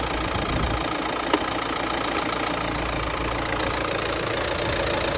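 A hot Renault Grand Scenic 2017 1.5 K9K dCi diesel engine idles close by, a continuous broadband rumble with an even, unchanging level and a faint knocking texture throughout.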